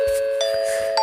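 A broadcast chime sound effect, a school-style PA tone: a short sequence of clear, sustained electronic ding-dong notes, steady and close, with no voices.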